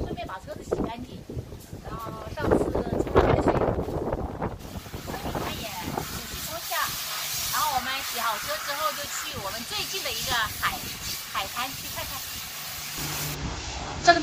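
A car gets washed at a village repair shop in Hainan, with a steady hissing water spray running through most of the stretch and voices talking over it.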